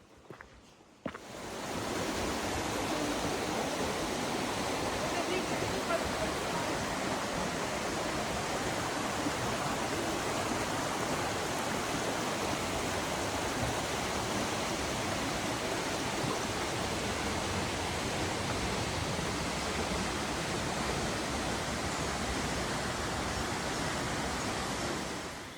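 Bridal Veil Falls waterfall near Raglan, New Zealand, a loud continuous roar of falling water, broad and steady, rising sharply after a quieter first second and holding without pause.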